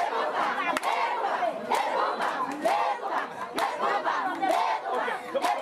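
A Haitian crowd shouts and cheers in loud, continuous waves at a community well event, with bursts of massed voices rising and falling throughout.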